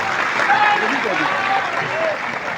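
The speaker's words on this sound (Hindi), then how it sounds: "जोरदार ताली बजा के स्वागत करें।" A crowd claps loudly and continuously to welcome brides at a mass wedding ceremony for 251 daughters, a dense, steady applause with a voice faintly carrying over it.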